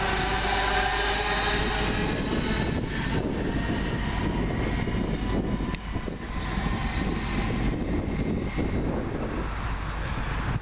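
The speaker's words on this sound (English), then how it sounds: "the next one out will be 323 220. Working the delayed 1324 London Midland service from Wolverhampton to Walsall via Birmingham New Street" A Class 323 electric multiple unit, 323 220, runs a delayed London Midland service from Wolverhampton to Walsall via Birmingham New Street through Coseley station. It makes a continuous broadband rumble and roar for about ten seconds, close and steady, with no voices.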